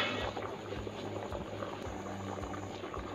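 Water at a rolling boil in a pot, seasoned with bay leaves, star anise, cardamom, cumin, peppercorns and mace for pulao rice, giving a dense continuous bubbling and popping up close, with no talk.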